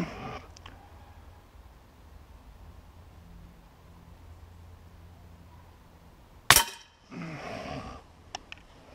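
A single sharp crack of a Beeman P17 air pistol shot at a shooting session, sudden and loud after quiet room tone, followed by brief handling rustle.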